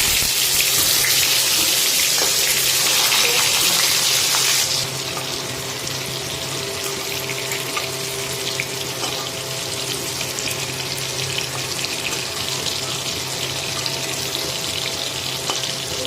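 Stuffed bitter gourd pieces frying in a small amount of hot oil, a steady hiss that is louder for the first few seconds and then settles into a softer continuous sizzle, with no talking.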